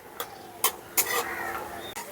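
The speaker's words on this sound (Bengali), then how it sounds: "বাদামটাকে নাড়াচাড়া করে ভেজে নেব একটু লাল করে" Peanuts being stirred in hot oil in a pan, with a few sharp scraping clicks of a spoon against the metal over a soft, steady sizzle.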